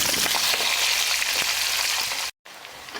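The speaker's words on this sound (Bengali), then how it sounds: "আলুটা একটু ভেজে নিয়েছি" Potato pieces fry in hot oil with dried red chilli and five-spice, giving a dense, loud, continuous crackling sizzle up close that cuts out abruptly for a moment near the end and then resumes, with no voices.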